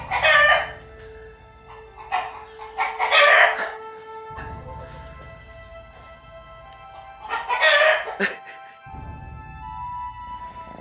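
A rooster on a small farm gives several loud, close bursts of clucking and crowing-like calls in separate clusters, with quieter stretches and a low background hum between them.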